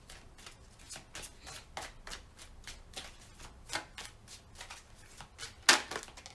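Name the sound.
shuffling Arcanum Tarot cards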